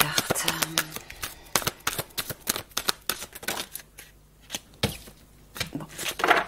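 Playing cards being shuffled, handled and laid down on a table, a run of quick close snaps and soft slaps with a few pauses, sometimes with people talking.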